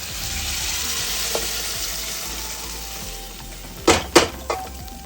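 Egg tadka mixture sizzles steadily in a pressure cooker after a cup of water is poured in, with a few sharp clatters and knocks near the end.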